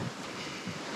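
Strong wind gusting across the microphone near sand dunes by the coast in a national park, a broad rushing roar with low buffeting thumps, continuous and close, no voices.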